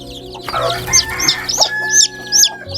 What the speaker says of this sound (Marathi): तर ही कोंबडी पण खूप चावती. आता ह्याला पकडणं खूपच अवघड झाले जरा, तरी पकडतो मी.